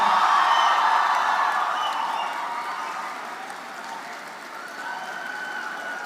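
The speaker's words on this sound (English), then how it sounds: "so it deserves this kind of applause" University convocation audience applauding a newly awarded PhD at an Electronics and Communication ceremony, a steady wash of many hands clapping with light cheering, gradually easing but sustained throughout.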